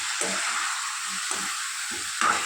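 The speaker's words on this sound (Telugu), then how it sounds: "ఫ్లేమ్ ఎక్కువగా ఉన్నప్పుడు మనం చికెన్ని ఇలా ఫ్రై చేసుకుంటే తొందరగా సాఫ్ట్ అవుతుందండి" Steady, loud sizzling of chicken frying in hot tempering oil over high flame, with soft stirring scrapes now and then.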